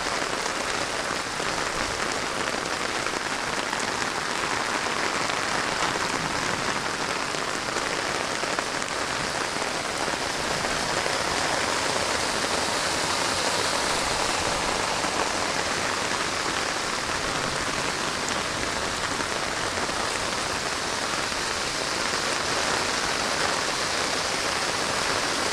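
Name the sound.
heavy rain falling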